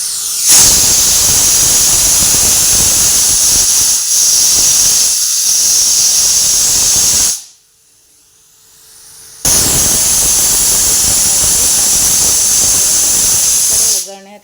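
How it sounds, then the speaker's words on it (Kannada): A kitchen pressure cooker whistle releasing steam in a loud, sustained hiss that cuts off for about two seconds, then resumes at full strength until the end. "ಈಗ ವಿಸಿಲ್ ಬರ್ತಾ ಇದೆಯಲ್ಲ"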